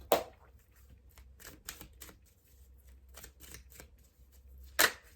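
Oracle cards being shuffled and drawn, heard as a run of crisp, close card flicks and snaps in uneven bursts, ending with one sharper slap, with no talking.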